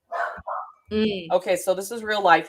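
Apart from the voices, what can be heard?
dogs barking in the background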